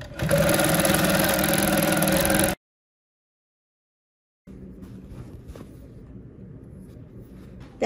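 A long arm quilting machine stitching gives a loud, steady mechanical hum that stops abruptly, then after a pause a quieter, continuous motor drone resumes.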